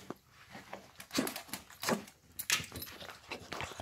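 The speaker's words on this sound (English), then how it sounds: "Our little dogs." Small dogs whimpering and making short yelps in a home, a series of brief bursts spaced irregularly, fairly close and moderately quiet, with no talking over them.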